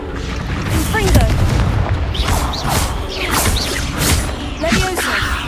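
A Confringo blasting spell cast in the Hogwarts Legacy video game, heard as repeated booming, whooshing fiery bursts layered over dense battle effects, with a voice talking through the noise.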